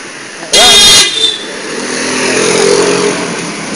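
A motorcycle passes close by as a car horn gives a short, loud honk, after which the engine's rising drone swells and fades, with voices talking nearby.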